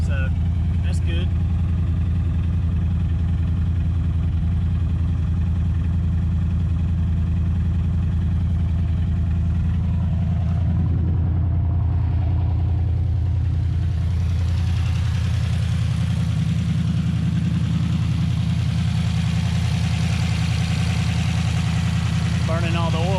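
A used junkyard LS V8 idles in a turbocharged Mazda RX-7, a loud, steady low rumble that holds its pitch throughout with a brief dip in its upper hiss midway.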